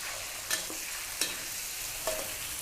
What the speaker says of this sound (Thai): การจะเอามาทอดพร้อมกับกระเทียมแบบนี้ค่ะ